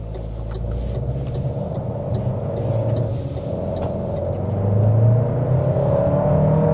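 An MG HS 1.5T with a dual-clutch gearbox pulls away smoothly, its engine note building steadily in a continuous cabin-side rumble that swells louder toward the end, with no speech over it.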